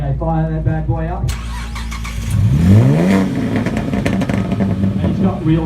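A car engine fires up at a Melbourne car-meet rev battle, coughing to life and then revving hard in loud rising and falling sweeps close by, while people talk and shout around it.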